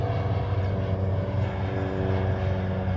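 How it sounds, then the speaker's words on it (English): A DHL Singapore co-branded Boeing 777 arriving on approach to Honolulu runway 8 left gives a steady, loud low engine roar with a broad rumbling drone that holds without a break. "the DHL Singapore co-branded 777. It is currently over Iroquois points."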